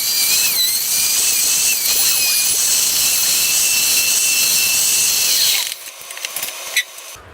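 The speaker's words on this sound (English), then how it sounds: "20 minutes of drilling and routing, we have all the routes done" A power tool whines at a steady high pitch while drilling and routing a vintage-replica Gazzbass JB1-V bass guitar body. The sound is loud and close and carries on for several seconds, then cuts off into a few scattered clicks and handling noises.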